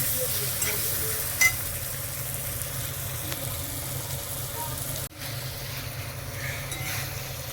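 Chili powder and other spices fry in oil in a pan, giving a steady, close hiss of sizzling throughout, with a brief clatter of stirring about two-thirds of the way through.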